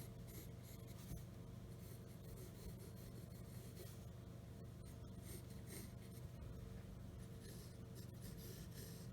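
A pencil draws lines on paper for a one-point perspective sketch, a soft continuous scratching and rubbing close up, quiet and steady with no talk.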